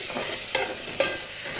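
Snail pieces and gongura curry cooking in oil in a pan, a soft steady sizzle running throughout, broken by two sharp clinks of a stirring utensil against the vessel, with no voices.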